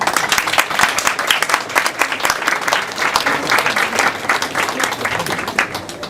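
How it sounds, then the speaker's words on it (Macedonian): A crowded audience gives a loud, sustained round of applause in thanks to a man named Niche, many hands clapping in a thick, even wash for several seconds that gently tapers near the end. "сакам овој аплауз да го сватиш како длабока благодарност"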